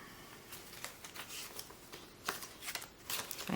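Paper cash bills being counted out of budget envelopes, a soft run of crisp rustling flicks and riffles, close and fairly quiet, with no talking.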